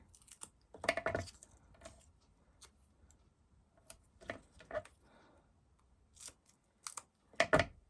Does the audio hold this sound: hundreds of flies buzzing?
no